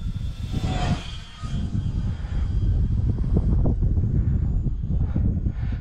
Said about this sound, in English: Not the most silent airplane ever